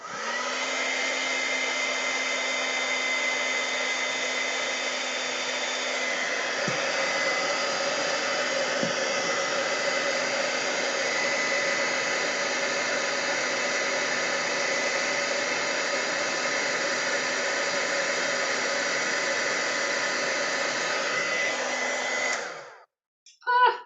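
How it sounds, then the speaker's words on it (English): An embossing heat gun blows hot air in a steady, loud, broadband whoosh that holds for about twenty-two seconds, then cuts off near the end with a brief clatter. No one speaks. "So this is my heat gun. I'm gonna heat it up."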